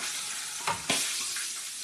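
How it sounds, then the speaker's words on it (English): Hot oil sizzles and crackles steadily as chicken tenders fry, with a couple of sharper bursts of spattering partway through. "That way it'll start frying immediately."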